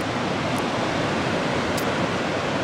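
Ocean waves breaking on a beach in Baja California, a steady, broad wash of surf noise with no distinct crashes, continuous and moderately loud with no voices.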